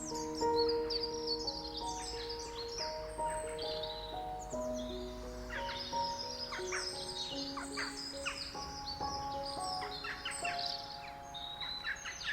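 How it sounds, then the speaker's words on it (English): Birdsong in a European backyard garden: several birds chirp and whistle in overlapping phrases, with occasional crow-like caws, fairly soft and moderately distant. "surrounded by birdsong and the soft clinking of old tin"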